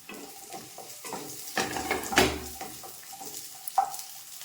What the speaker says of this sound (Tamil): அதே பேனில் அந்த பழைய எண்ணெயிலேயே வெங்காயத்தை போடுறேன். அதையும் போட்டு நல்லா வதக்குவோம்